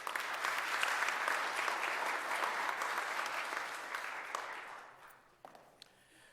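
An audience at a civic business event in Philadelphia applauds, a dense sustained round of clapping at moderate volume that gradually thins and fades out, leaving a few scattered claps at the end.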